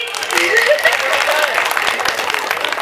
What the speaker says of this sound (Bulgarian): Браво! Аплодисменти!